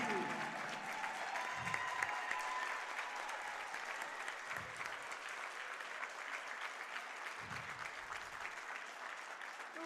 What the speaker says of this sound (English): Let's have one last loud round of applause for the Tufts University women's basketball class of 2019